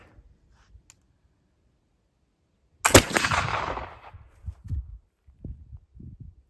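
A single loud black powder gunshot fired at a hay bale target, a sharp blast with a long rumbling decay lasting about a second, followed by faint scattered knocks and movement nearby.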